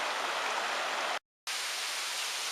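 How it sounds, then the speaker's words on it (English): Rushing water of a waterfall dropping off a cliff in the rainforest, a steady broadband roar that runs loud and close with a short silent break partway through. "Really nice waterfall here."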